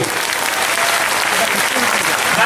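An audience at a Buddhist diksha festival bursts into loud, sustained applause as monks are welcomed onto the stage, a thick continuous roar of many clapping hands with no pause.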